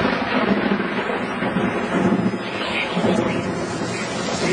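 Thunder rolls during a severe thunderstorm in Meridian, Mississippi, a dense, sustained rumble that fills the whole stretch without breaks, loud and steady with a noisy wash over it, and no talking.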